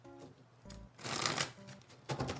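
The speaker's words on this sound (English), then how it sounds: "fancy deck is like humongous, so I have to shuffle it in a particular manner" A large, oversized tarot deck being shuffled in several bursts of riffling and card friction, close and fairly loud, with brief pauses between handfuls.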